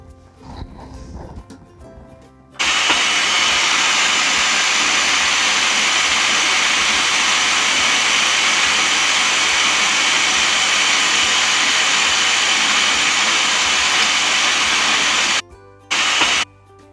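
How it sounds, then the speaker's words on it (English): A blender whirs steadily on low speed, mixing a lemon basil vinaigrette as oil is added, a loud continuous motor hum with a sharp start and brief stops near the end. "Gradually add oil and blend on low speed."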